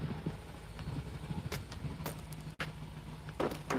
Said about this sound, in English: We're just maneuvering vehicles for a second here.